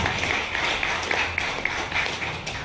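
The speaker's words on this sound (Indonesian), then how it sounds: "Tolong tepuk tangan untuk propolis." Audience applause at a ZstarGlobal product presentation session, a steady wash of clapping across the whole moment with a few sharper individual claps standing out, fairly close and moderately loud.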